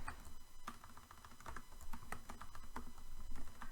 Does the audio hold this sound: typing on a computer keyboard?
yes